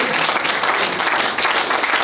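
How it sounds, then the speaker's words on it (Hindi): Audience applause at a Hindi poetry gathering, a short burst of brisk, dense clapping from a crowd, close and loud throughout. "जरा तालियां जरा बिना कहे भी बजाइए"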